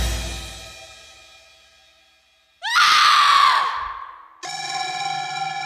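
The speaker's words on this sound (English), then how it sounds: "A scream coming from outside cuts the mood." A woman's scream rings from outside in a heavy metal audio comic, a sudden loud shriek that slides downward, with sustained tones before and after it.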